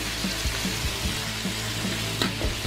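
Sliced carrots cook in a pan with a steady, close sizzle and faint scraping stir sounds now and then, no voices over it.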